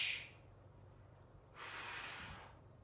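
Two forceful breathy exhales during a core workout, one brief at the very start and a longer hissing breath about a second later, close and fairly quiet, with no talking.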